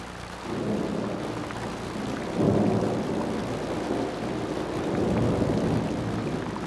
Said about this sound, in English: Accompanied by thunder and lightning,